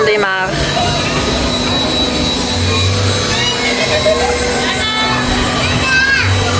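An amusement park helicopter ride's motor whirs and hums steadily among crowd noise and children's voices, with people talking nearby throughout.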